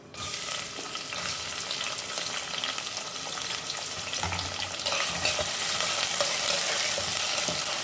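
Chopped onions sizzle and fry steadily in a pan after spices have been roasted for a soybean and soya chunk curry, a bright continuous crackle that grows a little louder with occasional stirring, with no talking.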